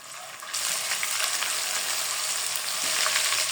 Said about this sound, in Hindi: अदरक लहसुन के पेस्ट को थोड़ा सा मैं सौते कर लूंगी,